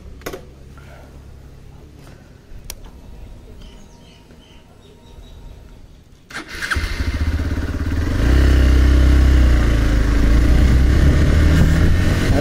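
A motorcycle loaded for a mountain trip from Dharchula to Gunji idles quietly with faint clatter and bird chirps, then the engine fires up and runs loud and steady, close by.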